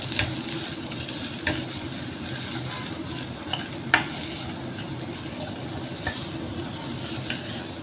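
Turmeric, coriander and cumin being stirred into mung dal in a pot, a constant soft sizzle with a few spoon scrapes and taps scattered throughout.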